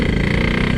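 A Yamaha RX King two-stroke motorcycle fitted with a Boban C33 exhaust runs with a loud, continuous raspy engine drone, close and steady through the short stretch with no talking.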